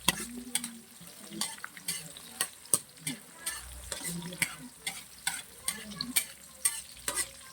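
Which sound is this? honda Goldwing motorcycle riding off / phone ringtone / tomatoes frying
tomatoes frying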